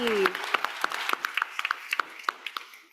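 Scattered hand claps from an audience at a youth forum opening ceremony, a sparse, uneven patter of individual claps over a few seconds that thins out and stays moderately quiet.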